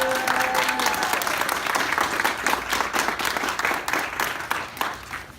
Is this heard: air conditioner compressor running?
no